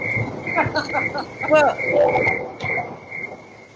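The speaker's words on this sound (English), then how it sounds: "yeah, those are crickets." Crickets chirp in repeated short trills at a steady pitch through the recording, moderately near, while people talk over them briefly.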